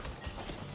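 Horse hooves clip-clopping in Diablo 4 gameplay, a quiet, short run of soft rhythmic steps against low background noise.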